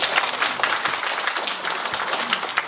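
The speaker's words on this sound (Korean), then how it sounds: "교수님께 다시 한번 큰 박수를 부탁드리겠습니다" An audience at a county town-hall talk concert gives a brief, dense round of applause for a professor, claps crackling steadily at moderate distance with no voice over them.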